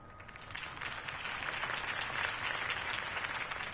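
Steady crowd applause in the video game Batman: The Telltale Series fills the scene, a dense wash of many hands clapping that builds slightly and holds at a moderate, somewhat distant level.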